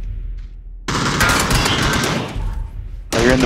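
Rapid Uzi submachine gun fire in a video game, a dense sustained burst of automatic shots lasting a couple of seconds after a brief lull, then another burst starting at the end.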